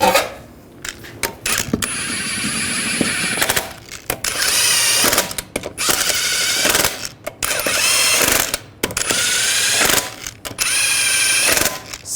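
Lug nuts are snugged down on a 2007-2013 Chevrolet Silverado wheel with a ratcheting tool, in a series of quick rattling bursts and clicks with short gaps between them, close by.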